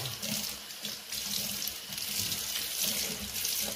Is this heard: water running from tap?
yes